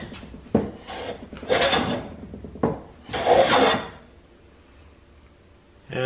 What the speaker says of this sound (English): We'll just try to take a shaving or two